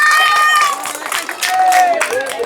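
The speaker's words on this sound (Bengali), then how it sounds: "জোরে করে করতালি ভাই" Brief clapping and cheering from an outdoor crowd for a contestant in a drop-and-head game challenge, lively and close, mixed with shouting voices.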